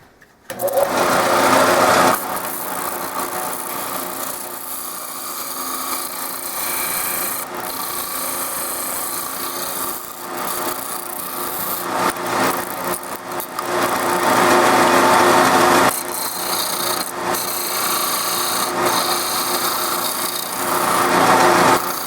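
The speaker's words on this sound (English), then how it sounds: "Now I'm going to profile the top of that using my disc sander." A disc sander profiling the top of a bone acoustic guitar saddle, a loud continuous whirring grind that swells and eases as the bone is pressed on and lifted away in several passes.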